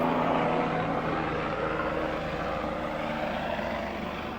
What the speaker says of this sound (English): That's not a good helicopter.